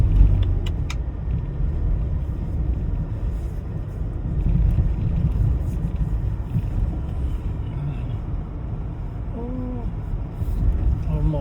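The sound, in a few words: car driving over sand dunes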